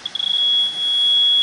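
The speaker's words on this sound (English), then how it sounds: "It's beeping a little bit on low too." An electronic refrigerant leak detector held at a Mustang's AC line gives rapid close beeps that quickly merge into a loud, steady high-pitched tone, with no talking.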